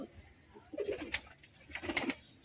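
Pigeons inside a loft give soft, low cooing calls in two short bursts, fairly close in a quiet space.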